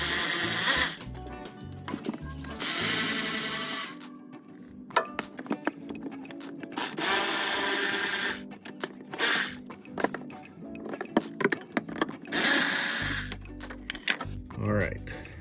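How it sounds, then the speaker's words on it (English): A ratchet removes the last transmission pan bolts on a Ford Expedition during a fluid and filter change, sounding in bursts of rapid clicking separated by pauses, close up, with someone talking over parts of it. "So now I'm going to hold pressure on the pan while I remove these last bolts."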